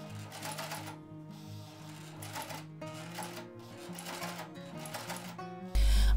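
A sewing machine fitted with a gathering foot stitches skirt fabric in a quick, steady mechanical patter, running under background music.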